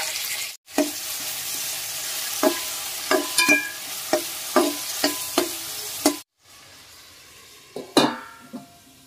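Tomato pieces added to half-cooked onions frying in a pan for drumstick pulusu: a close, steady sizzle with a regular series of spatula scrapes and taps against the pan, then short pauses and a final louder clatter.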